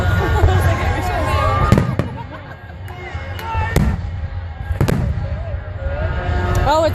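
Fireworks at the Redding show in 2014 boom and crackle in repeated bursts, with sharp pops several seconds apart over a steady outdoor crowd murmur and people talking nearby.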